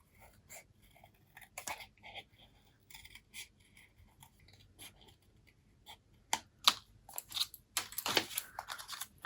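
Scissors cutting through cardstock for a DIY paper flower craft, giving quiet snips and crisp crunchy cuts that grow louder and denser near the end, with no talk.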